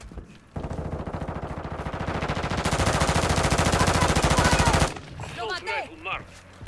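AK rifle gunfire in Call of Duty: Modern Warfare II, a loud sustained burst of rapid automatic fire lasting several seconds and then cutting off, followed by a short stretch of quieter game sounds.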